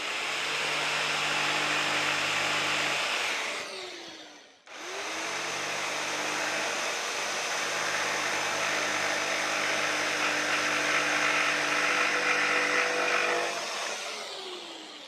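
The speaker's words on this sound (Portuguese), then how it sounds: "Agora vamos finalizar com a serra tico-tico." A jigsaw cutting a triangular wooden stair step, a loud steady buzzing drone that stops briefly midway, then restarts and runs on before trailing off.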